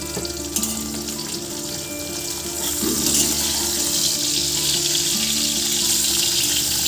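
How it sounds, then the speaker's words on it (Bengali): Fish, pointed gourd and spiny gourd frying in a pan in a home kitchen, a continuous moderate sizzle that holds steady throughout and grows slightly louder partway through, with no talking. "এই যে মাছ ভাজা পটল ভাজা কাঁকরোল ভাজা করে দিচ্ছি"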